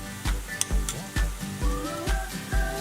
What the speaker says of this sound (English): we're gonna give it a good amount of sauteing in the pan